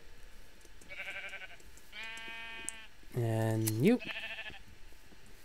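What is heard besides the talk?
sheep bleating in Minecraft video game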